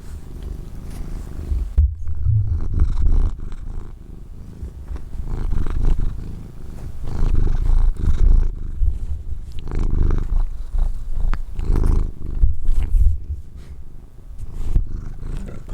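A black cat purring right up close, a loud continuous rumbling purr with steady breathing pulses throughout, deep and rough, with no voices.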